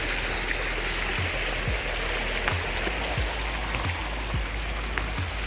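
Stream and waterfall water at Water Wheel Falls near Payson, Arizona, rushing in a steady, full broadband roar close by, with no talk over it.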